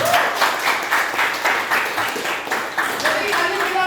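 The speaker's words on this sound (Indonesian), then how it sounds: "Tepuk tangan untuk kelompok 1." A classroom group claps for the first student group presenting, with dense, fairly close clapping in uneven bursts and a few voices mixed in.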